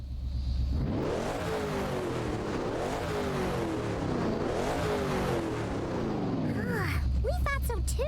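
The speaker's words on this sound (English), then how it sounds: "This car's sound would never get old." The Damaso Pantera, a car in Genshin Impact, revs its engine loudly in repeated rising sweeps, close and aggressive, before the engine note cuts off and a short electronic chime follows.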